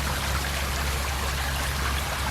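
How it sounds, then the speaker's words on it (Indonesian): Water pouring steadily over rocks in an artificial waterfall in Japan, a dense continuous rushing hiss heard up close with no voices. "Kita mulai lihat dari sini air mengalir guys"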